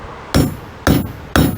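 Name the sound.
hitting a tool hard with a hammer, several strikes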